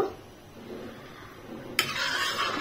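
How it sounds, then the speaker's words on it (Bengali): A spoon scraping and stirring chana masala with slit green chillies in a pan, giving soft, faint scraping sounds and then a sharp metallic clink followed by a sizzling rush near the end. "এই দিয়ে এটাকে ভালোভাবে এইভাবে নাড়িয়ে নেব"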